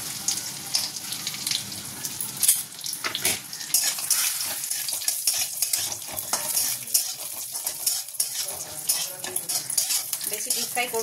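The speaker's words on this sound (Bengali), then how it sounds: "এবার এর মধ্যে কাজু কিশমিশটা দিয়ে দেবো।" Cashews and raisins fry in hot ghee in a kadai, a steady close crackling sizzle broken by scrapes and taps of a stirring spoon, with no talking.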